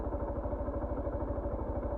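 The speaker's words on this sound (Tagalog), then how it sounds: "may motor doon oh" A motorcycle engine runs close by on a muddy SLEX TR4 Package D construction road, a steady low pulsing idle-like throb with a constant mid tone, loud and without talk.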